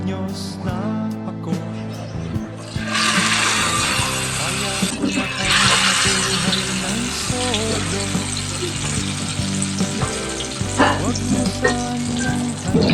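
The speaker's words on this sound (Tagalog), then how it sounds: "Siguraduhin po natin na mainit po yung mantika bago po natin isalang yung ating itutortang talong" Eggplant omelette (tortang talong) laid into hot oil in a pan, bursting into a loud, steady sizzle after a short moment and crackling on continuously, close by, with background music throughout.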